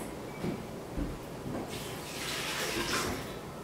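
Running tap water splashes steadily nearby while something is rinsed under it, a soft continuous hiss with small bumps and a slightly heavier flow toward the end.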